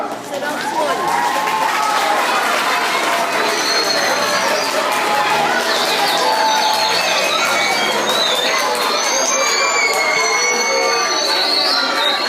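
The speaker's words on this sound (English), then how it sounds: "Give this guy a round of applause." A seated audience at a mural unveiling applauds a workshop student called up front, steady clapping with cheers and crowd chatter filling the room throughout, loud and close.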